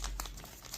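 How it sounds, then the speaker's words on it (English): Quick, close crinkling and creasing of paper being folded into an origami heart ring, a short burst of soft rustles. "we're just gonna proceed with the folding up of the bottom portion"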